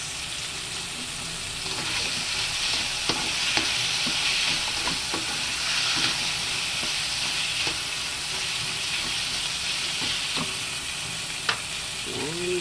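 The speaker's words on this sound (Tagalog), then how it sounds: "Susutay lang muna natin ang ating chicken wings." Chicken wings sauté in a hot pan with a steady sizzle, overlaid by scattered clinks and scrapes from stirring, with no talk over it.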